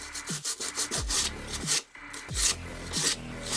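Dried sheetrock filler being sanded on a model starship: close, dry rasping strokes in a quick uneven rhythm, with one brief pause midway and no voices.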